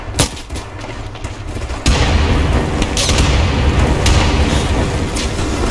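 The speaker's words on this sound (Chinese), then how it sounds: "敌军的自走炮爆炸" Enemy self-propelled artillery explodes in the ArmA military game: sharp gunfire cracks, then a sudden loud blast swells into a sustained rumbling roar with scattered further shots.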